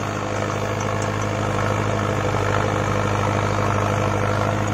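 A 57 HP Mahindra Novo 605 DI tractor, hitched to an 8-foot superseeder, runs with a steady, close, heavy engine drone and a constant low throb, heard alone without talk.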